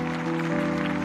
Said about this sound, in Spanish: Más fuerte el aplauso para Jesús.